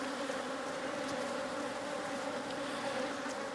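Honey bees at an opened hive, likely stirred up by hive beetles, make a steady, dense buzzing drone that holds unbroken throughout, close and moderately loud, with no voices.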